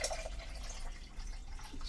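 Water pours steadily into a container inside a Travato camper van, a continuous close splashing trickle that swells a little near the end, with no talking.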